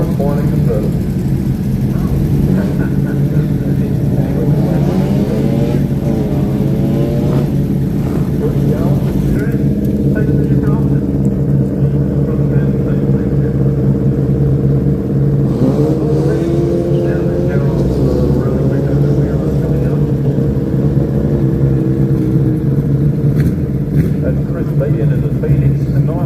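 Touring cars, including a Morris and a convertible, run up the hill at the Leyburn sprint start line, their engines droning loud and steady throughout with rising revs, while a commentator talks over them.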